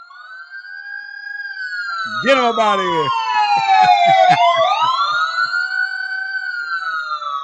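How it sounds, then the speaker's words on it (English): Emergency sirens wail loudly with rising and falling tones, several overlapping, while someone shouts briefly over them. "All you hear is straight up sirens"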